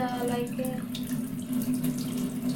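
Rice being rinsed in the stainless steel pot of a Russell Hobbs rice cooker, with a steady, close rush of running tap water and faint swishing throughout.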